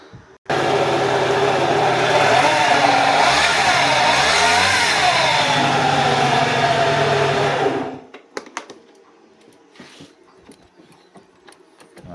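A scooter engine with a seized-engine problem runs at a loud, steady buzzing drone that swells slightly as it revs, then cuts off abruptly, leaving quiet clicks and faint handling noises.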